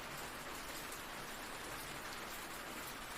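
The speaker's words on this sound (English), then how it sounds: "listening to the rain hammer against the roof" Heavy rain drumming on a cabin roof during a storm, a dense, constant hiss of impacts with no pauses.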